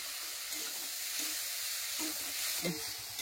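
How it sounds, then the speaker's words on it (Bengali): Mango chutney frying in plenty of oil, a faint, steady sizzle with occasional soft stirring knocks, close and continuous. "আমের টকটা যত তেল দিয়ে ভালো করে ভাজবো তত বেশি দিন থাকবে।"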